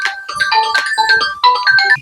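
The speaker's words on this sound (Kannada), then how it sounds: "ಯಾರಪ್ಪ ಬೆಳಗ್ ಬೆಳಗ್ಗೆನೆ ಫೋನ್ ಹಚ್ಚಿದಾರೆ" A melodic phone ringtone plays loud and close, a bright chiming tune repeating its phrase with no talking.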